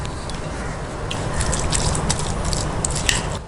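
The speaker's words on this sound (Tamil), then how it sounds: "நம்ம ஒரு 4 ஸ்பூன் அளவுக்கு நம்ம தண்ணி ஊற்றிக்கலாம்." Water poured into bread pakoda batter in a bowl, a soft steady wet trickling and splashing with faint drips, close and fairly quiet, no talking.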